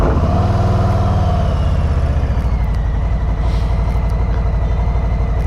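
A Harley-Davidson Street Bob motorcycle riding, its engine a steady, loud, low throbbing rumble with a pulsing beat that holds throughout, close by and without talk.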